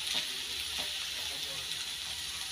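Bottle gourd fry sizzling in a pan as a soft, even hiss with a few faint clicks, fairly quiet and without talk.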